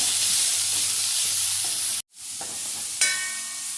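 Dry fish and coconut roast in a pan with a continuous sizzle and scraping stirs, cutting out abruptly for a moment before the frying hiss resumes with a brief clatter.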